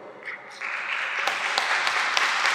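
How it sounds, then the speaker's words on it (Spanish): An audience of several hundred human-resources specialists applauds at a live podcast recording, the clapping swelling from scattered claps into sustained, dense applause that carries on to the end, close and loud. "que yo merezca este aplauso en este momento"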